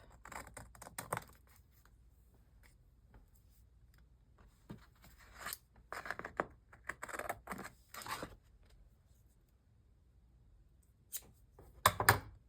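Scissors cut paper for an art journal in a quiet room, giving scattered bursts of close, crisp snipping and paper rustling separated by near-silent gaps, with no one talking.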